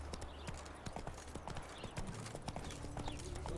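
Roach the horse from The Witcher 3 trots with steady clip-clop hooves, close and continuous, layered over a low ambient game bed.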